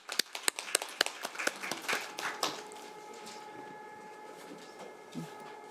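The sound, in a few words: applause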